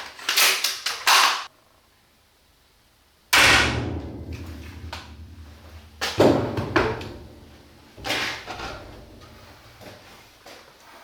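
An EK Archery Revo7 crossbow set to a 120-pound draw fires in sharp, loud snaps, each with a ringing mechanical clatter and decay, spaced a few seconds apart with quiet gaps between them.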